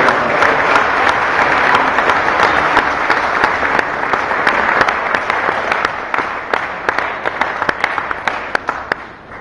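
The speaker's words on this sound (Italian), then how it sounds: "vorrei accogliere con un grande applauso" Audience at a 2014 economics debate applauds to welcome Professor Warren Mosler, dense sustained clapping that thins toward the end into scattered individual claps.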